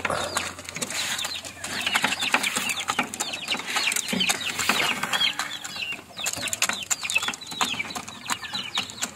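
Backyard chickens and chicks cluck, chirp and peep continuously at close range, a dense overlapping chatter of small calls with occasional louder clucks.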